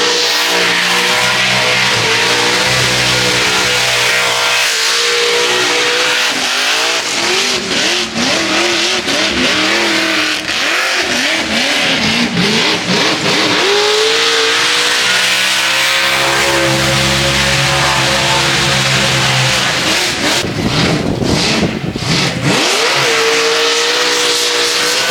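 A 1994 Nissan Skyline R32 GT-R at a Motorex car show revs hard and continuously, its engine note climbing and dropping in repeated loud sweeps with no talk over it.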